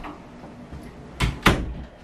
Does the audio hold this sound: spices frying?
no